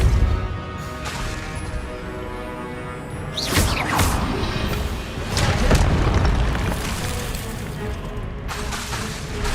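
Spell blasts cast in the Hogwarts Legacy video game: repeated booming magical impacts and whooshes over a dense, continuous game soundscape, with swelling bursts of energy and crashes.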